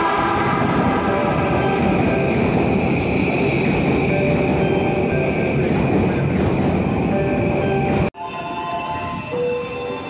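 Train at a Japanese railway station in Ueno, heard as a steady loud rolling rumble with tonal squeals throughout, cut off abruptly near the end before a quieter station ambience continues.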